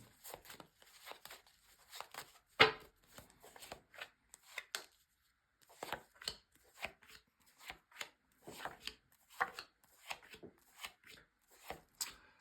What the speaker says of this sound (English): I'm going to shuffle your cards and then lay down your 10 cards on the table